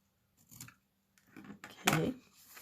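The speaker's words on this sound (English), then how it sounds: "Gotta trim off this edge." Scissors trimming the edge of a paper card for a DIY fold card, a few quiet separate snips, the last cut longer and louder, close and alone.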